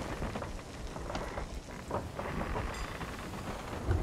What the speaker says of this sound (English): Oh my God, this storm, we're not even in it.